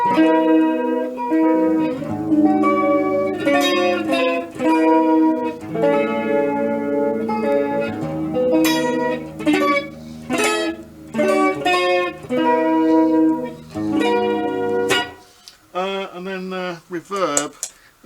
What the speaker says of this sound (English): Now I put some delay in, just a short, that sort of kind of delay.